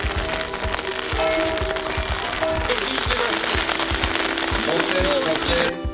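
Rain falls during an outdoor 11 November remembrance ceremony in Beaurepaire, France, in 2018. It makes a steady, dense patter and crackle on surfaces, close and fairly loud, with occasional dull thumps.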